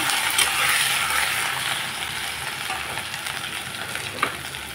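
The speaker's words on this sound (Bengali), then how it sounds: "বাঁধাকপির জন্য ফোড়নে দিয়ে দিলাম সাদা জিরা, 2টো তেজপাতা, গ্রেট করা আদা" Cumin seeds, two bay leaves and grated ginger sizzle steadily in hot oil for a Bengali cabbage dish, a continuous close crackling hiss that eases slightly toward the end, with one small clink near the finish.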